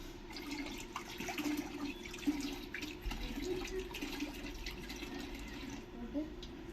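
A water tank lid being washed with running water, a faint continuous splashing and gurgling flow with small scattered knocks and clatters.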